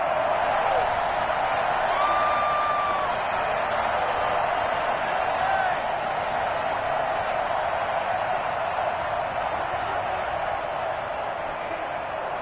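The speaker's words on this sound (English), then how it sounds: "How about some applause for the defense there?" Broad Madden 21 video game crowd noise with cheering and clapping rolls on steadily, a distant stadium roar that stays constant under a few faint whistle-like tones.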